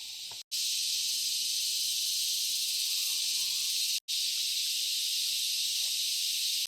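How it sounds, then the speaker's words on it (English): Cicadas in the forest of Atauro Island, Timor-Leste, shrill loudly as a dense, continuous buzzing drone, broken only by two brief gaps. "The cicadas here are incredibly loud."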